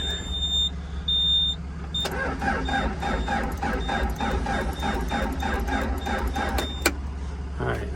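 A camper's engine cranks over with a rapid, rhythmic starter churn lasting several seconds at close range after a chime and a brief pause, without catching, over a low steady hum.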